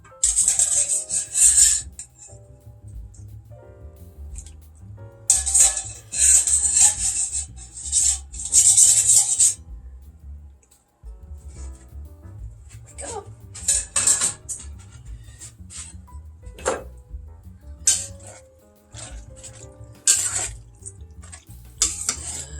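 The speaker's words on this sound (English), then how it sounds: "Drain my pasta." Cooked penne pasta being drained in a kitchen sink, with irregular bursts of splashing, rushing water and clattering pot noise, loud and close, pausing briefly midway before resuming.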